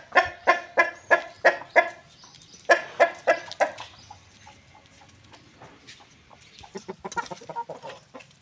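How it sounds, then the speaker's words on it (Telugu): A hen on a farm clucks loudly and close in quick rhythmic bursts, two runs of six or seven sharp clucks, followed by softer scattered clucking and rustling toward the end. "ఇది ఇక్కడ కనబడుతున్న డేగ పెట్టే ఉందండి"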